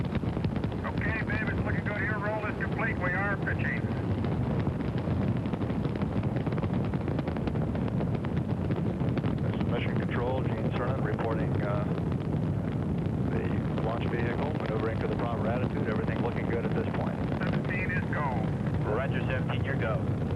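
Saturn V rocket lifting off the pad during the Apollo 17 launch in December 1972, a continuous heavy roaring rumble throughout, loud and steady, with radio voices and commentary talking over it.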